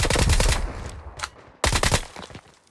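VSS rifle gunfire in PUBG Mobile: a dense burst of rapid shots, a brief lull with a single crack, then a second loud volley that tails off into quiet, close and prominent.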